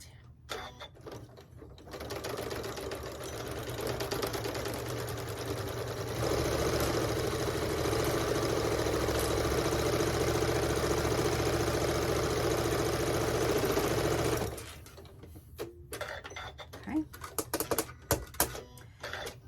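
A sewing machine stitches a straight seam down the side of a quilted tote bag with flex foam, a steady close mechanical whir that runs about twelve seconds before stopping, followed by faint handling clicks.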